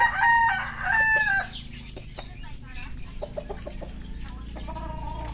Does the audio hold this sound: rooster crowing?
yes